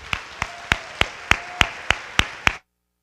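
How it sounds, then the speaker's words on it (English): At a high school underclassmen awards ceremony, about nine sharp, separate claps ring out in a steady, evenly spaced rhythm, close and crisp, then stop abruptly into silence. "let's give everybody a round of applause"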